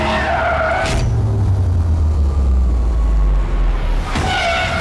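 Porsche Taycan electric car, weighing 2.4 tons, driven hard around a track, loud and close with tyres skidding and squealing through a long slide, a low rising hum beneath and sharper bursts at the start and end.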